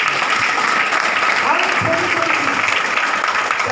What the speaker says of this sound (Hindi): बहुत बढ़िया, ताली होनी चाहिए के लिए।